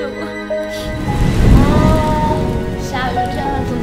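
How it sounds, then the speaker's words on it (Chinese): Steady rain pours down in a dense, loud hiss that swells toward the middle, with faint musical tones layered underneath. "下雨天了怎么办？"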